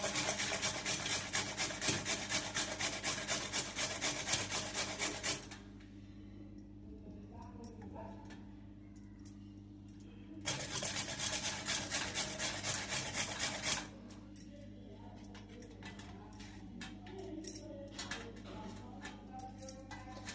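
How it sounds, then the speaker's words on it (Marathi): Carrot grated by hand in a home kitchen while preparing a quick breakfast, heard as a loud, steady scraping rasp in two long bursts separated by quieter gaps with soft handling clatter. "त्याच्या अगोदर थोडंसं कॅरेट किसून घालायचं."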